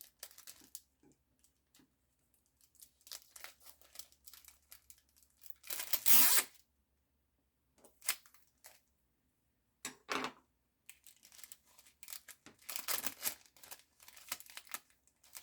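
Clear Scotch tape peeled away in a few sharp, crackly tearing bursts, the loudest near the middle, with quieter crinkling handling noises between them at close range and no talking.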